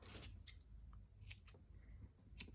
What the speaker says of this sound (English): cut my double-sided tape